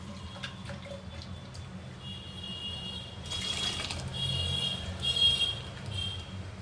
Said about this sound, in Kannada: ಸ್ವಲ್ಪ ಜಾರ್ ಒಳಗಡೆ ನೀರು ಹಾಕ್ಕೊಂಡು ತೊಳೆದು ಹಾಕ್ಕೊಳ್ಳೋಣ.